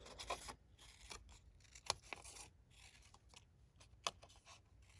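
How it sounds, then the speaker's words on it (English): Scissors snipping paper flower petals from a stack of five-inch paper flowers for a craft ornament, a few quiet, sharp cuts scattered through otherwise soft rustling, close and faint. "you're just going to cut off the petals"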